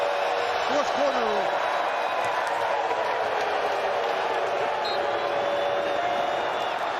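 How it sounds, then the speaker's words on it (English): Loud stadium crowd roar at an XFL 2023 football game between the Arlington Renegades and St. Louis BattleHawks, a dense, steady wash of noise with a commentator's voice carrying faintly over it. "It's deafening down here."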